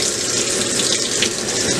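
Liquid is poured into a container in a continuous, loud, splashy stream that lasts under two seconds, with no speech.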